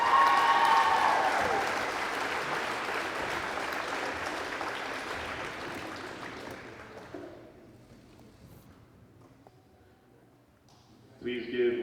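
A crowd applauds loudly at a girls' basketball senior night in a gym, Hempfield against Chambersburg. The clapping slowly fades to scattered claps, and a brief voice sounds at the end.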